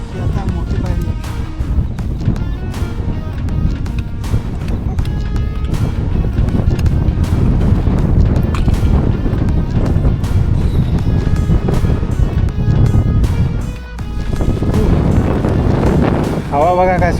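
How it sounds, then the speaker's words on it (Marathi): Strong wind on the rock-cut steps of Kalavantin Durg during a solo mountain trek, a loud, steady roar buffeting the microphone throughout, with someone speaking over it. "हवा बघा काय सुटली."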